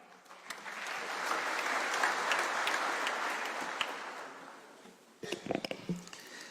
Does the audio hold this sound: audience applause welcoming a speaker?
yes